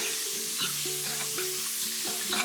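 Mediterranean pesto sizzles in a hot pan as it cooks, a steady close frying hiss with light stirring clatter and some tonal sounds in the background. No one talks.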